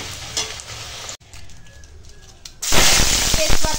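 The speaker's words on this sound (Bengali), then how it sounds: "এখানে আলুটা ভাজা প্রায় হয়ে গেছে" Potatoes fry in a pan with crackling sizzle, stirred now and then; a quieter stretch is followed by a sudden loud burst of hissing spatter near the end.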